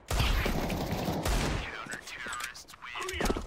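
Rapid gunfire from a Counter-Strike 2 match, a dense burst of shots in the first half that gives way to scattered game sounds.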